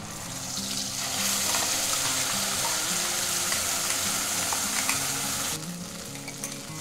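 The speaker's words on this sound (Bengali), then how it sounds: "এবারে এই যে পেঁয়াজ, কাজু, আদা, রসুনটা দিয়ে দেবো।" Onion, cashew, ginger and garlic sizzle steadily in a hot pan for a paneer dish, with continuous frying crackle, occasional stirring scrapes and a slight drop in intensity near the end; no talking.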